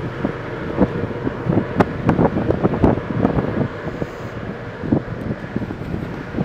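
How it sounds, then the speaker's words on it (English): Strong wind buffets the open stern deck of a ferry under way, a loud continuous roar with gusty bursts and rumble, no voices over it. "I'm surrounded by wind."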